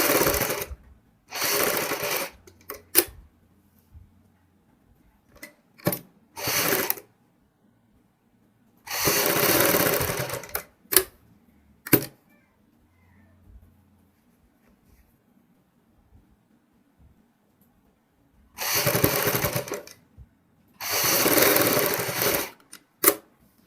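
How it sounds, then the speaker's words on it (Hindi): Sewing machine stitching over a neck patch on a dress: several loud, close bursts of rapid mechanical whirring, separated by quiet pauses with small clicks and handling noises. "यहाँ पे जो हमने पेंच तैयार किया है उसके ऊपर सिलाई लगाएंगे"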